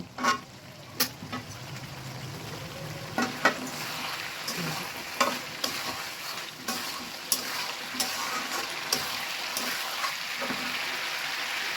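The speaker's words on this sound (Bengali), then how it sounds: "এখন সবজির সঙ্গে একটুখানি নাড়া দেবো" Winter vegetables are stirred as they fry in a pan for a fish curry, a steady close sizzle broken by repeated sharp spatula taps and scrapes against the metal, with no speech.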